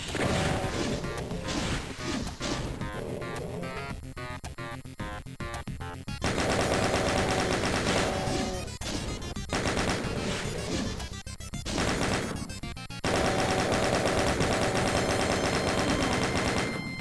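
Rapid, dense bursts of gunfire from the 1993 video game DOOM, loud and continuous for most of the stretch, layered over driving in-game music with brief thinner gaps between volleys.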